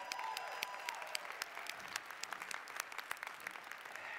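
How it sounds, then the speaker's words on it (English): A room full of people applauds a woman being recognized at an event, a quiet, continuous patter of many hands clapping with some sharper individual claps, heard from a distance. "Give her a round of applause"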